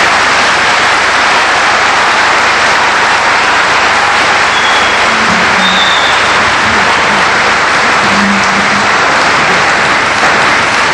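A large lecture audience in Sydney applauds steadily for Sheikh Ahmed Deedat, a loud, dense, unbroken wash of clapping that continues for about eleven seconds without any speech.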